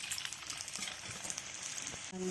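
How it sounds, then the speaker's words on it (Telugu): Potato french fries frying in hot oil give off a soft, continuous bubbling sizzle with scattered crackles, briefly broken near the end by a faint stirring clatter. "ఇవన్నీ కూడా ఫ్రై అయిపోతాయి."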